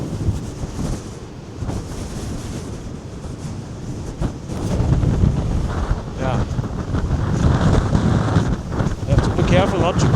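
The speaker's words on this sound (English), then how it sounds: "It's very, very windy." Strong wind buffets the microphone outdoors in a continuous roaring rumble that swells into heavier gusts partway through, with faint voices underneath.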